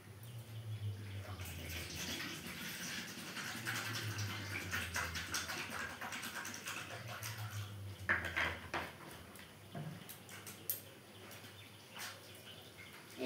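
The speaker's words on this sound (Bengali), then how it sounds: "এই আম দুটোকে ভালোভাবে ধুয়ে নেব" Two sour mangoes are washed by hand in water, with steady running and splashing water, a low hum, and a few clinks of dishes near the end, heard close and fairly quiet with no voices.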